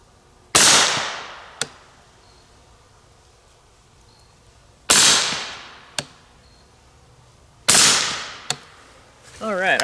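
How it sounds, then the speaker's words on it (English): .300 Blackout subsonic rifle rounds fire as three sharp, loud shots spaced a few seconds apart outdoors, each followed about a second later by a fainter crack, with light rustling between shots. "we'll shoot these next 4 shots"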